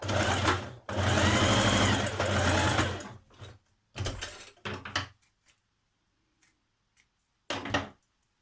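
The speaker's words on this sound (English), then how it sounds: "I'm going to sew this underarm seam." A home sewing machine stitches the underarm seam of a Simplicity 1064 tunic, running in two loud sustained bursts, then several shorter start-stop runs separated by quiet pauses.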